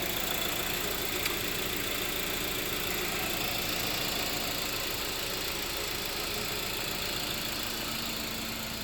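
A 2014 Honda Civic Si's 2.4-liter dual overhead cam i-VTEC engine idles with a steady, even hum that holds constant throughout, with no voices over it.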